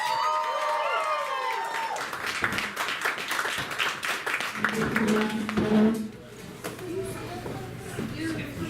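A stand-up comedy crowd applauds a comedian as he is introduced: a voice speaks, then a few seconds of steady clapping and cheering, before he begins talking over the fading noise.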